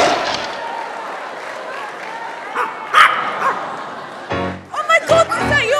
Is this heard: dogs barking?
yes